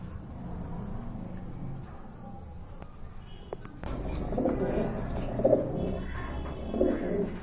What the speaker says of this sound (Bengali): অনেক বড় সাইজের কবুতর, এই যে ডাকতেছে।